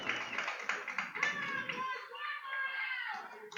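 A small crowd at an evening baseball game chants and claps, light scattered hand claps mixed with young voices calling out encouragement in a loose, lively rhythm.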